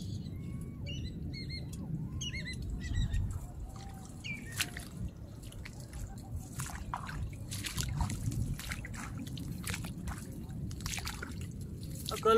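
Crabs (alimasag) making chirping, bird-like clicks and ticks near water, scattered and fairly close over a low murmur, with people talking in the background.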